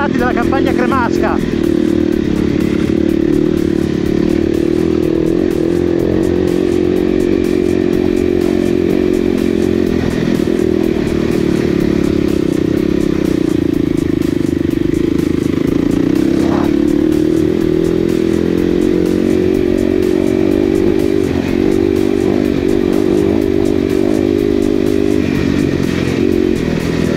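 An enduro motorcycle rides along dirt country tracks during an enduro race transfer stage, its engine droning steadily and loud throughout with slight rises and dips in revs, a rider's voice talking over it.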